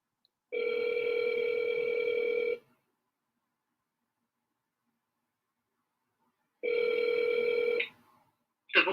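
An outgoing phone call rings on the line, two long electronic ring tones separated by several seconds of silence, clear and close with no talking.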